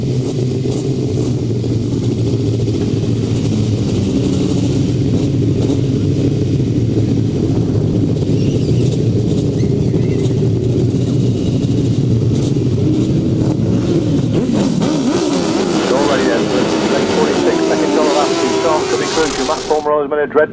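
Grasstrack racing motorcycles at a British Masters qualifier line up and restart a race, engines droning steadily and loud throughout, then surging into a louder rising roar of revving as the pack launches near the end.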